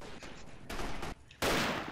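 Gunfire from the World War I shooter Verdun, a few sharp, loud shots in quick succession, the last and strongest one ringing out briefly before it fades.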